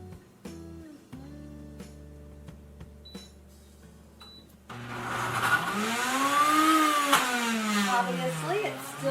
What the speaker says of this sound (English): So I'm going to pulse it, no matter how difficultly it chugs along.